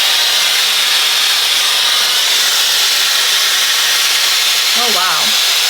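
A Temu automatic hair curler running on its medium heat setting, a steady loud airy hiss and whir throughout, with a brief voice-like sound near the end.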